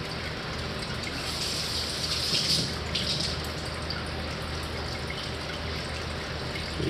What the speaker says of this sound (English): I just give it a little rinse.